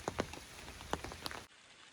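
Rain patters steadily on a ridgeline section of the Appalachian Trail during hurricane weather, close and even, with a few sharper drips before the sound cuts off abruptly.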